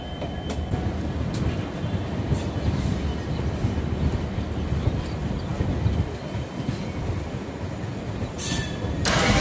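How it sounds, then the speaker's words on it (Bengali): The Brahmaputra Mail rumbles steadily into a platform at New Cooch Behar station, a dense, continuous roar of wheels on track with faint squeals and a few sharp bursts near the end. "দেখুন নিউ কুচবিহারের 5 নম্বর প্ল্যাটফর্মে আমাদের ট্রেনটি ঢুকছে।"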